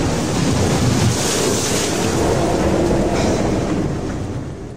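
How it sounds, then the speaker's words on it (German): Huge ocean waves and strong wind roar during Cyclone Polly, a loud, continuous broadband rush of surf and gusts that swells and fades slightly, with no voices. "Die Wellen sind so hoch, so gigantisch."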